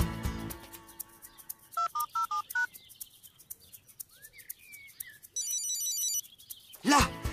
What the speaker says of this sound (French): Là, j'entends sa sonnerie.